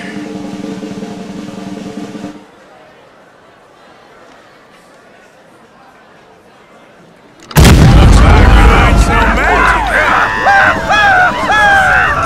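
In the Red Dead Redemption 2 game, a single loud cannon blast booms out after a quiet lull, followed by a rumbling, crackling aftermath with voices talking over it.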